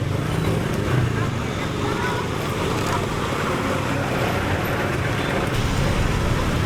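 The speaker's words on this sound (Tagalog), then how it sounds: "Traffic lagi dito, Balintawak." Steady road traffic on EDSA at Balintawak, a broad continuous rumble of engines and tyres with no clear breaks, close and fairly loud throughout.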